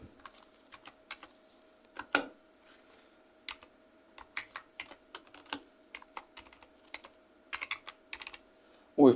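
Someone types on a computer keyboard, sharp key clicks arriving in quick irregular bursts with short pauses, close and clear over a quiet background.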